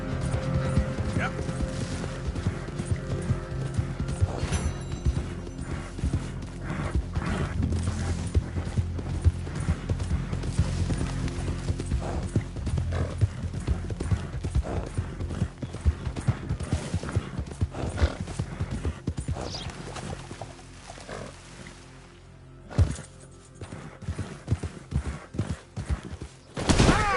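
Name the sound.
horse galloping in video game Red Dead Redemption 2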